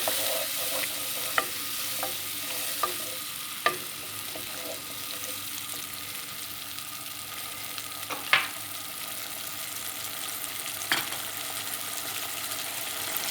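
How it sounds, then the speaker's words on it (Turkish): Quiet, steady sizzling in a pot of stinging nettle dish with spices, with occasional light clinks and scrapes of a utensil as food is stirred. "Tekrar bir şöyle karıştırıyorum."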